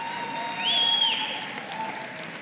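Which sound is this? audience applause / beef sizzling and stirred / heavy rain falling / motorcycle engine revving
audience applause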